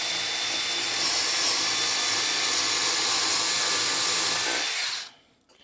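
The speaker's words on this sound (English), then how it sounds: "what I like doing is getting a drill" A power drill whirs steadily at high speed for about five seconds, boring through wood, then winds down abruptly into near silence.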